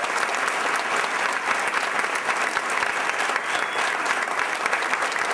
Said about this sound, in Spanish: Para ellos, un aplauso.